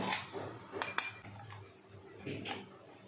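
Metal clinks and knocks from a chakli mould and its perforated disc being handled, a few sharp taps scattered across the short stretch, close and moderately loud with quiet gaps between.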